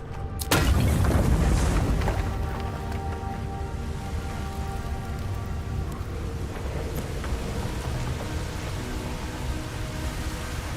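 A bomb detonating in the fantasy role-playing game Avowed: one sharp, loud blast at the start, followed by a long rumbling, crackling tail with debris-like patter fading slowly.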